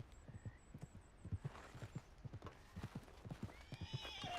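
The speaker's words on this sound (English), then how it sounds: "How do I call my horse again?" A horse in a video game whinnies while its hooves clip-clop in a quick, even rhythm close by, with a faint hum behind and a rising neigh near the end.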